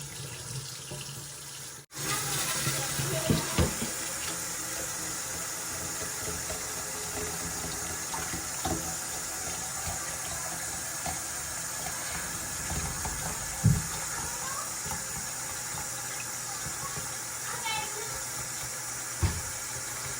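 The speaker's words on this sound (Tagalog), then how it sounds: "nilagyan ko na ng tubig para mamaya ready na" Water pours steadily from a tap into a long-unused container being readied for a betta fish, a continuous close rushing hiss that starts abruptly and runs unbroken with occasional small clunks.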